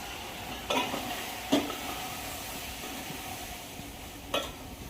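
Vegetable curry of pigeon peas and brinjal sizzles steadily in a pan after tempering with mustard seeds, cumin, chili, salt, turmeric, garam masala and coriander-cumin powder, with a few sharp stirring scrapes breaking through the continuous frying hiss.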